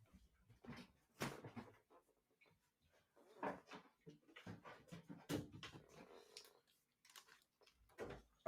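A dog whimpers and pants indoors in short, scattered bursts across several seconds, with faint household clatter like a cupboard or drawer alongside and no talking.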